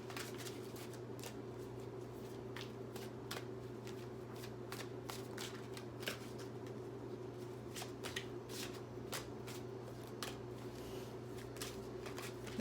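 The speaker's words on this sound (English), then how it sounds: "These ones are so large and it's really hard to shuffle" Large Voyager Tarot cards shuffled by hand, a steady run of close, crisp riffling flicks and slaps repeating for several seconds with no talk.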